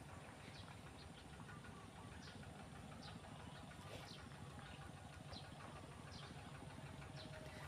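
A low, steady engine rumble of a farm tractor chugs continuously, like a tractor running at a distance in a rice field, with no voices.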